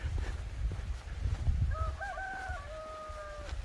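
Chickens in a quiet rural village: a rooster's drawn-out crow rings out in the middle distance over a low, steady outdoor rumble.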